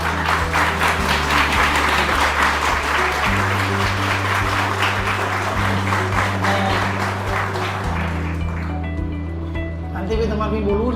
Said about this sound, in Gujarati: અલગથી થોડી તાળીઓ વગાડો